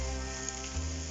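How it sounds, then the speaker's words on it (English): Vegetables for a chickpea curry sizzle in a frying pan and are tossed as they cook. The frying hiss is steady and close, with a low background hum and no talking. "in this frying pan tossing these vegetables"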